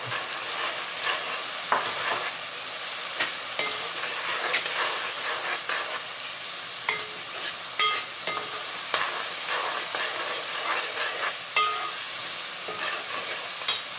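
Thick masala paste fries in a pan of curry, giving a steady loud sizzle and hiss with repeated stirring scrapes and clicks throughout, close up and without talk.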